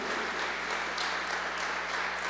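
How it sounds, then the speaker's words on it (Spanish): Church congregation clapping during a sermon, a dense, even wash of applause that continues unbroken for a couple of seconds at moderate volume. "Si le va a aplaudir, apláudale"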